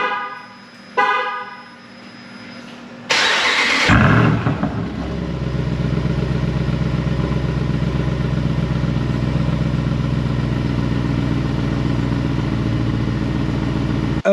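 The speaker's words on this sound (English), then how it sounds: "let's go ahead and hit the remote start and fire it up." A Jeep Wrangler 392 fitted with an AWE Switchpath exhaust is remote-started. A short chirp comes first, then a loud crank and bark that settles into a steady, deep, rumbling idle that runs unbroken to the end.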